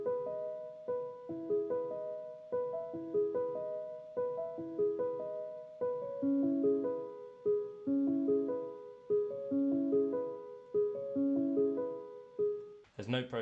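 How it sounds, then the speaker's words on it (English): Raw sampled piano arpeggios with no processing, repeating rising note patterns in a steady rhythm at a moderate, close level for about thirteen seconds, ending in a brief noisy burst. "what we've got going on here is a sort of arpeggiating piano that sits under the"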